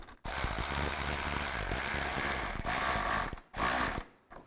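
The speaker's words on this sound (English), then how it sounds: "Take the clamp, put the clamp over the hose. Get the hose on the radiator. And tighten down the clamp." A ratchet tightens a hose clamp on the radiator hose of a 2002-2009 Chevy Trailblazer, giving rapid, loud, close clicking in long sustained bursts broken by two brief pauses.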